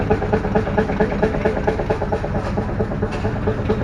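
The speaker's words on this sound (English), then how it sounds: "This one keeps revving up and down." Antique gas engine running at a tri-state gas engine show, a rhythmic chugging pulse with engine noise that rises and falls, close by and without speech.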